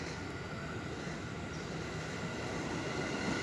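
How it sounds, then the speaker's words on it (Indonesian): A KRL JR205 commuter train in new livery passing by, a steady broadband rumble of wheels and motors that stays constant and moderately distant, with no voices. "KRL JR205 Liperi Terbaru mau melintas."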